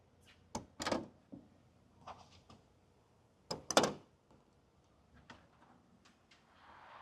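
The bed side panel on a 2021 Ram 1500 Rebel swings open on gas shocks: a few quiet latch clicks and thuds, two louder clunks, and a soft rising hiss near the end, all close up with no talk.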